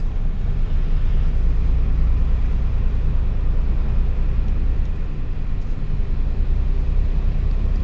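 A car engine rumbles loud and steady with heavy low-end drone, holding a sustained rev throughout without clear bursts, no voices audible.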